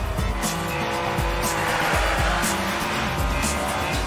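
Racing cars in the arcade video game HotShot Racing roar steadily at high revs, with tire squeal and rapid gear-shift surges, loud and continuous with no pause.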